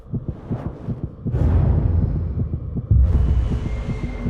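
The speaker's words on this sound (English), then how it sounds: "I can hear my heartbeat in my ears." A heartbeat sound effect plays as a steady, muffled thumping pulse, low and throbbing, with a dull hum rising in the background partway through and no speech.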